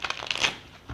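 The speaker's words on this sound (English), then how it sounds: "I will just shuffle the cards" Tarot cards are shuffled close up in a quick, papery riffle of overlapping flicks lasting about a second.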